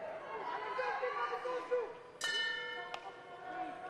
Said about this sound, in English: The bell did go.